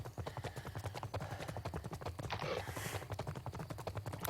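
Horse hooves clip-clopping in the VirZOOM virtual reality exercise game, a quiet, rapid and even stream of hoof knocks in a steady trotting rhythm, with a brief hiss partway through.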